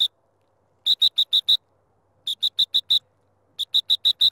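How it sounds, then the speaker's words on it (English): A dog training whistle gives the sit command to a retriever, sounding in three clusters of four or five sharp, high, evenly spaced blasts, loud and close with quiet gaps between them. "Whistle sit first."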